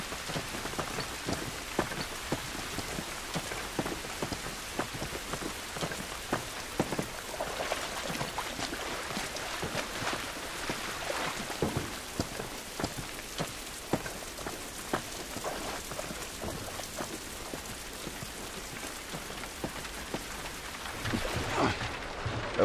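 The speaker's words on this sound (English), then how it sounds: "This rain ain't gonna do us any good." Steady rain patters and splashes on surfaces in a wet outdoor area of The Last of Us, a dense, continuous hiss with sharp droplet ticks throughout and a slightly louder swell near the end.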